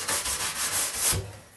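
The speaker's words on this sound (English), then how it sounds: "this is the only brush I go back and forth with, and I'm just polishing that surface to take any nubs off of it" A brush is worked back and forth over a waxed Nordic ski base in cold-snow waxing, giving a steady close, dry swishing scrub with rhythmic strokes.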